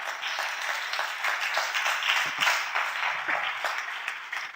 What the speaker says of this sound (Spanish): ¿Puede darle un aplauso a nuestro Dios?